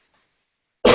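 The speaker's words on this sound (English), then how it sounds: "I got a cough here." A single sharp, loud cough from a person, bursting in abruptly at the very end after near silence.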